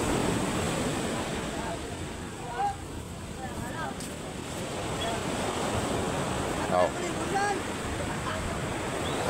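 Sea waves roll and wash in a steady, loud surf with wind noise buffeting the microphone, and people talk faintly beneath the roar.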